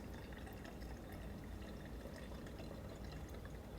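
Homemade coconut rum pours steadily through a filter, a continuous faint liquid trickle and splash that stays even throughout, with no voices.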